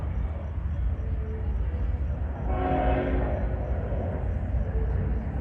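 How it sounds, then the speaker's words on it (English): Union Pacific 5532, a freight manifest train at a Tempe street crossing, sounds its horn in one swelling, sustained blast midway over steady rumbling rail noise, fairly near and loud. "the train is sounding its horn"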